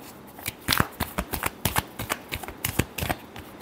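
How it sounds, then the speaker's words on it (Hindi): Tarot cards being shuffled by hand for a Libra love reading, a rapid run of crisp riffling flicks and slaps in uneven bursts, close and fairly quiet, with no talk over it. "Last shuffle."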